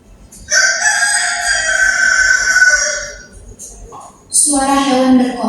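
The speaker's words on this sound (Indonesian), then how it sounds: "Suara hewan berkokok membangunkanku." A rooster crowing at dawn, two loud close cock-a-doodle-doo calls, the first long and drawn out, the second starting after a brief gap, heard on their own with no talk.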